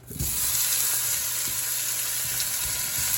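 Onions dropped into hot olive oil in a pan, an immediate loud steady sizzle that starts abruptly and holds evenly throughout, with faint scraping underneath.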